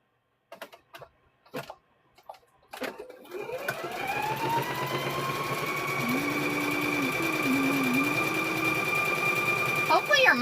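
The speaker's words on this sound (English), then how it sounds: "let's go ahead and stitch these together" A sewing machine stitches quilt squares together: a few clicks and taps, then a steady close whirring hum with rhythmic stitching chatter that runs on to the end, loud and alone.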